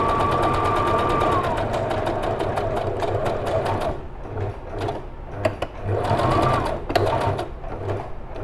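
A sewing machine stitches along a fabric face mask in fast, steady bursts of needle clatter, pausing briefly midway before running again; close and loud, with no talk.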